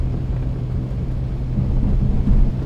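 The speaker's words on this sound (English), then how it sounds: "My very first takeoff with the A2A Comanche at Burning Blue Design Simpson." A2A Piper Comanche piston engine in a flight simulator on takeoff from a grass strip, a steady loud low droning hum with a constant tonal note, swelling slightly toward the end, with no talk.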